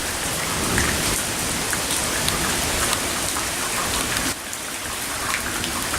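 Heavy rain pours steadily onto wet streets and concrete driveways in Austin, Texas, a dense, loud, continuous hiss with no voices.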